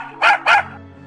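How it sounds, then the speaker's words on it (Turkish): A small dog gives two quick, sharp barks back to back, close and loud, then falls silent. "ve köpekçik"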